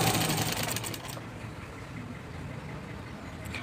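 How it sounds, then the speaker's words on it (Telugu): A sewing machine runs steadily while stitching a blouse neckline, a continuous close whirring hum that eases slightly after the first second and carries on without talk. "ఇప్పుడు దీన్ని అంతా హోల్డింగ్ చేసుకుంటూ నీట్గా కుట్టుకుంటూ వెళ్ళిపోండి"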